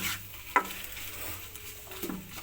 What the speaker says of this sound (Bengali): দিয়ে নাড়তে থাকবো, নাড়তে থাকবো, একটু ভেজে নেবো।